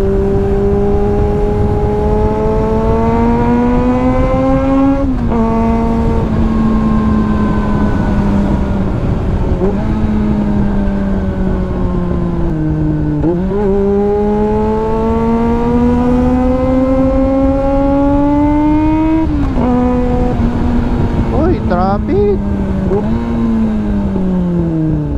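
A motorcycle engine runs steadily up close through a road overtake, its pitch rising and falling as the rider shifts and accelerates, with wind noise throughout.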